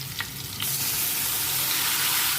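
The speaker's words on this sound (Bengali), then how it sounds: "আলুর দমটা আমার আলু ভাজা হয়ে গেছে বন্ধুরা, খুব হালকা করে রান্না করছি" Potatoes fry for aloo dum in ginger, garlic and chilli paste with turmeric, giving a loud, steady sizzle that swells after a brief softer start and runs on without a break.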